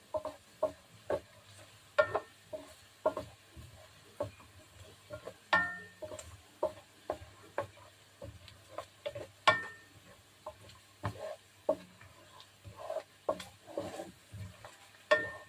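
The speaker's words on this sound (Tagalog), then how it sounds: "At sumabak na po tayo sa madugong paghahalo." Glutinous rice for biko is stirred in an oily pan, producing regular scraping and tapping strokes of the spoon at a steady rhythm, close up, over a faint sizzle and low hum, with no voices.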